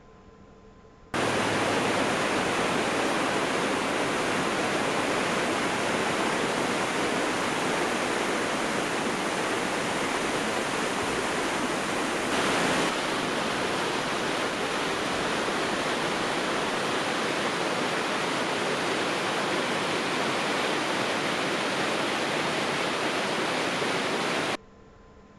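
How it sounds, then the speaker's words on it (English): Steady heavy rain falling in El Yunque National Forest, a Puerto Rican rainforest, a constant dense hiss of drops on foliage that holds evenly loud throughout, with no voices over it. "It rains almost every day, and it certainly rained while I was there."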